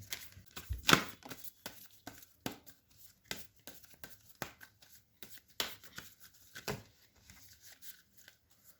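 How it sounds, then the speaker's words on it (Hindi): Tarot cards are shuffled close by in quiet, irregular riffles and taps, with short crisp bursts and soft slaps of the deck between pauses. "ये मेरा लास्ट शफल है"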